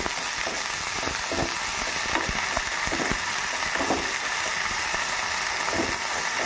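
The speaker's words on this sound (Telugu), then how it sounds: "ఒక 2 నిమిషాల తర్వాత మనం సోయాకు సన్నగా కట్ చేసుకొని వేసుకొని వేయించుకోవాలన్నమాట." Finely chopped dill leaves frying in oil in a pan, a dense, even sizzle throughout with soft stirring clicks and crackles layered on top.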